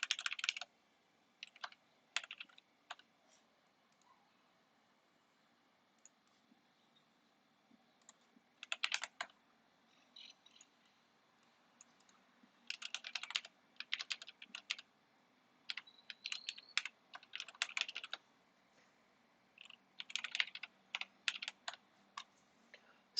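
Someone types on a computer keyboard in short irregular bursts of quick, light key clicks, separated by quiet pauses, close and fairly soft.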